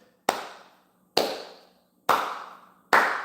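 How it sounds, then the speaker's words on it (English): Four single hand claps land slowly and evenly, each a sharp, close crack with a short ringing room decay, spaced almost a second apart against quiet. "I told you I'm gonna clap."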